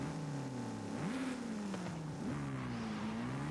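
Camaro engine idling and revving with a low, steady fluttering drone and a couple of quick throttle blips, heard close and alone with no talking.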